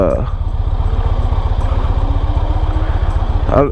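A sport bike engine runs steadily at idle or low revs, a loud, close, evenly pulsing rumble that holds for the whole stretch with no talk over it.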